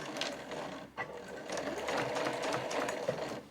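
A home sewing machine stitches size 8 canvas for a tote bag, giving a steady fast mechanical whirr with a rapid needle rhythm, close and continuous, with a brief pause near the start.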